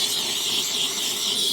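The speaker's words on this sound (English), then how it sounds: "I'm just kind of hitting this lightly with the brass brush attachment on the steam cleaner" A steam cleaner with a brass brush attachment hisses steadily against a dirty motorcycle engine, a continuous, moderately loud high-pitched rush with no speech over it.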